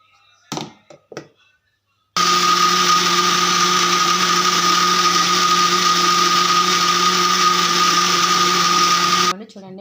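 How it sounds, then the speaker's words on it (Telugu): A mixer grinder whirs steadily for about seven seconds at loud, even pitch while blending black chickpea batter, after a few brief knocks and handling sounds at the start. "మళ్ళీ వాటర్ వేసి అయితే మిక్సీ పట్టేస్తాను"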